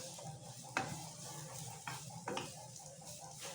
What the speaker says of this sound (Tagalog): Gisa muna natin yung sibuyas.